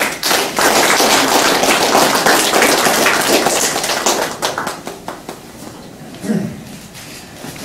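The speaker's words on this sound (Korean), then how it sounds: "여러분 뜨거운 박수를 부탁드리겠습니다." Loud, dense applause from an audience at a Korean political candidate's office opening ceremony, sustained for several seconds before thinning into scattered claps, with a brief voice near the end.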